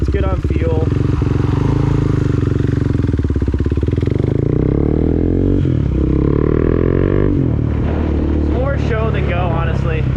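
A KTM Duke 390 motorcycle revs loud and close while riding, engine pitch climbing through gear shifts with brief drops between, with a rider's voice talking over the engine.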